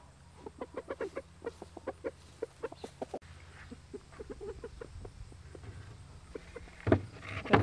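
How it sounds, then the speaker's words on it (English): Chickens and roosters on a homestead give a rapid run of sharp clucks, then quieter scattered clucking over a low steady background hum, with a louder squawk near the end; no talk. "let me turn you guys around so you can meet our 2 roosters"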